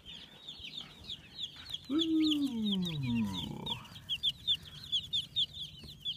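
Chickens cluck and chatter nearby while a rooster lets out a long crow in the middle; someone gives a brief exclamation.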